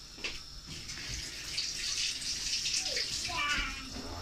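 Juicer rinsed out under running water from a tap, a steady close gush with splashing and clatter as the parts are handled, while people talk nearby, including a child.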